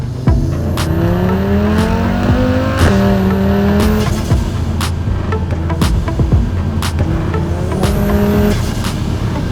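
A VW Tiguan fitted with an Audi RS3 five-cylinder engine accelerates loudly and nearby. A throaty rising drone is broken up by a series of sharp exhaust pops and bangs.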